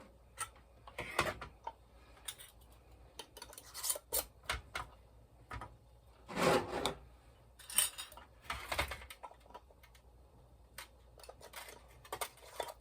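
Canning lids and metal rings being set and slid onto glass jars: scattered light clinks, taps and scrapes, fairly quiet and irregular, with brief clusters of metallic clatter.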